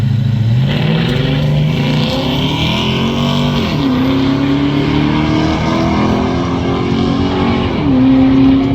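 Drag-racing cars, one an Acadian with a 2-liter engine, accelerate hard down the strip. Loud rising engine notes climb through repeated gear shifts, then pause and climb again, with no talk over them.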